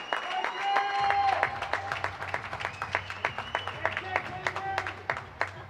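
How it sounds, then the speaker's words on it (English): An audience applauds to welcome a bowler onto the lanes after a semifinal match, steady clapping from a nearby crowd that carries on under a low engine-like hum. "Go ahead, clap it out and bring Jake out here"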